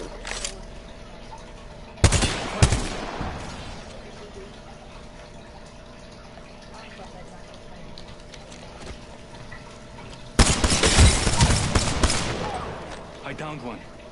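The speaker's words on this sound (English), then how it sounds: "Getting shot at." Two bursts of loud, close gunfire in a video game, a short volley early on and a longer fusillade near the end, separated by quieter stretches of ambient background.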